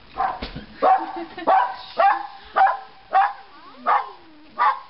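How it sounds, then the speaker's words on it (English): Repeated sharp yips and barks from puppies at a door while trick-or-treating, about seven evenly spaced barks, close and loud. "You're not afraid of puppies, huh?"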